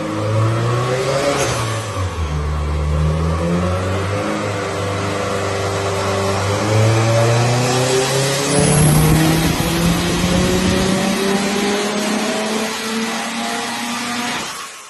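Subaru STi with an open-deck engine revs hard and repeatedly, loud and close, pitch climbing and falling in sweeping pulls before a deeper burst near the end.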